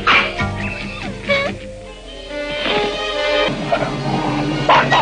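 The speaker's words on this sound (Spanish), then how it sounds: "Los perros defienden a Remy y a Vitalis peleando" Dogs in an anime fight off attacking wolves, with several barks, yips and whimpers bursting out in a busy, fairly loud scrap over a music-like background.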